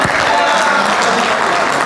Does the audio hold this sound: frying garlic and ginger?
no